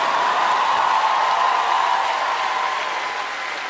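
Sustained applause from a large theatre audience at a KVN comedy final, a steady broad wash of clapping that fades slightly toward the end, with no talking over it.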